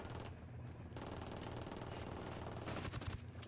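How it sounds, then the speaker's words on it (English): Rapid automatic gunfire rattles in dense bursts throughout a firefight in the video game Ghost Recon Wildlands, loud and continuous with a heavier cluster of shots near the end. "Stop fucking shooting at me!"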